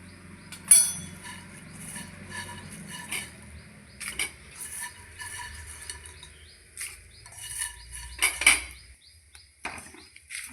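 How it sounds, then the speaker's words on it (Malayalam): Prawns and grated coconut are stirred in a pan while being roasted for chutney powder, giving intermittent scraping and metallic clinks of a spoon against the pan with soft rustling between strokes. "ചെമ്മീനിട്ട് തേങ്ങയും ചെമ്മീനും എല്ലാം കൂടി നന്നായിട്ടൊന്ന് ഇളക്കി ഒന്ന് ചൂടാക്കിയെടുക്കാം"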